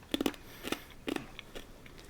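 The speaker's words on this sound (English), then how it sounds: "Oh, I just crushed a plane." A paper airplane is crushed by hand, giving a few short, crinkly crunches in separate bursts, fairly faint and close, with quiet gaps between them.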